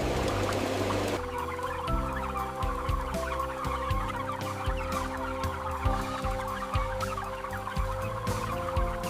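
A large flock of 30-day-old broiler chickens in a climate-controlled poultry house keeps up constant overlapping clucks and chatter over a steady ventilation hum, close and dense throughout.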